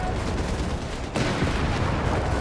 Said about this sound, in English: We got automatic fire.